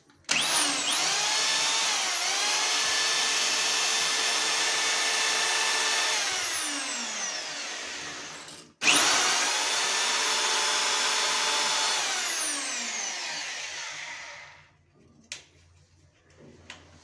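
A hammer drill bores into a wall while fixing bathroom accessories in place, grinding at a loud, steady pitch for about eight seconds. It stops briefly, then runs a second long burst that winds down, followed by a few faint clicks.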